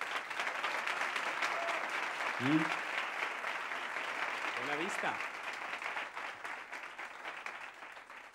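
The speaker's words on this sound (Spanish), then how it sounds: "Un aplauso para Sergio" A studio audience applauds for Sergio on a Spanish television comedy show, steady broadband clapping throughout under a presenter's voice, with a brief spoken phrase partway through.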